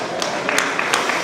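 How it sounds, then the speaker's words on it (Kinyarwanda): Guests at a Rwandan wedding applauding: a steady patter of clapping from a crowd at moderate distance, with a few sharper individual claps across a brief stretch. "bagutera amashyi bagushimire"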